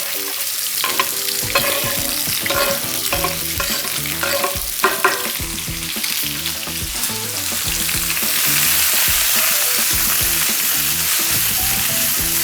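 Sliced onions fry in a pot for a tomato curry with cauliflower, potato and pork. A loud, dense sizzle is punctuated by rhythmic clacks of a utensil stirring, and the frying grows steadier and brighter toward the end.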